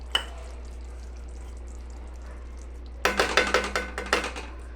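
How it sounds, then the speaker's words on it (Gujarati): A metal spoon stirs coriander into a pan of fresh pigeon pea (tuvar) curry, starting with one faint clink, then a quiet stretch, then a burst of rapid scraping and clattering strokes close up. "અને એના અંદર લાસ્ટમાં ધાણા મિક્સ કરી લેવા આ રીતે."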